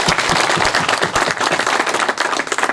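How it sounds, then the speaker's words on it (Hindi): Sustained, loud applause from an audience at a ceremony honouring a tehsildar in Dansal, Jammu, with dense rapid clapping filling the whole stretch and no voices rising above it. "ताली जोर से एक बार इनके लिए जोरदार ताली"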